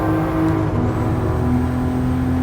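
A car engine in Gran Turismo Sport revving steadily while drifting, with a loud sustained drone and tonal whine close up and no talk.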